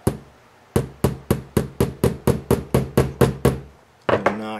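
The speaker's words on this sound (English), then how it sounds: "knock and we get them in place here, and this coupler will work just fine." Couplers being knocked into place on a model SD40 locomotive: a steady series of about a dozen sharp, close taps at even intervals, then a couple more after a brief pause.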